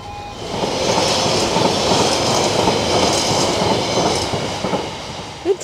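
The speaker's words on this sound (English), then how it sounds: "that is the first freight train I've seen down here all week" Freight train passing through a railway station, a loud, close, continuous roar of rolling wagons with faint clicking wheels that fades slightly at the end, with no talk.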